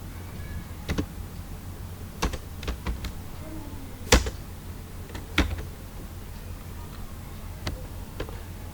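Someone types on a computer keyboard while writing a Java program, sparse light key clicks at an irregular pace, fairly faint over steady background hum.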